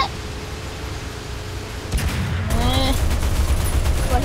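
Tank gunfire in War Thunder lands as a sharp blast over a steady engine rumble, followed by crackling fire and rising game sound effects.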